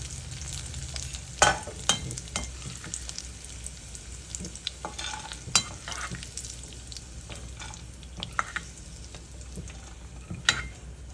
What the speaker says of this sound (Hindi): किशमिश को भूनते ही तुरंत हम इन्हें बाहर निकाल लेंगे